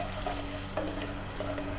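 Crushed garlic and ginger sauté in a pan for gobhi Manchurian, giving a low steady sizzle with a few sharp stirring clicks over a constant background hum.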